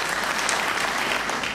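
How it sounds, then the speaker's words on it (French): An audience claps dense, steady applause throughout a short stretch at a formal conference gathering, the sound even and sustained from start to finish. "ça mérite des applaudissements."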